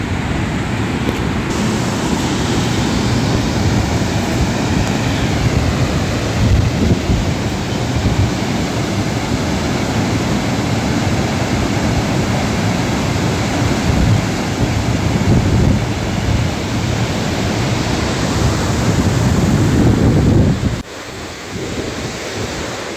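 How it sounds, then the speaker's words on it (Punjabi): Cool wind blows steadily after rain outside a gurdwara, a loud, continuous roar and buffeting across the microphone that drops off abruptly near the end. "ਬੜੀ ਠੰਡੀ ਠੰਡੀ ਹਵਾ ਚੱਲੀ ਜਾਂਦੀ"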